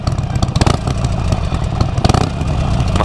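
A loud Harley-Davidson XL1200X Forty-Eight engine rumbling through a raw, unmuffled exhaust made from plain steel pipe, steady throbbing pulses with brief rises in revs, close and continuous.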